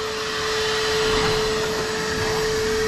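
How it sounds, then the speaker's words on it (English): A loud, steady motorized whine and whoosh from a shop sweeper runs continuously, close by and unchanging, in a car restoration shop. "Yeah, it'll be loud with that sweeper."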